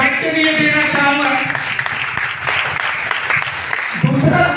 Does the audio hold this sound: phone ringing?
no